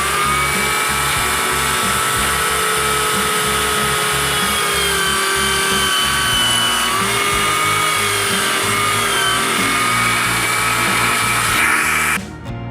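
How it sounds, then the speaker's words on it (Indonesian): A power drill whines continuously at high speed while boring into a coconut shell, the motor pitch wavering slightly before stopping abruptly at the end. "langsung saja kita bor sesuai dengan ukuran garis tadi ya"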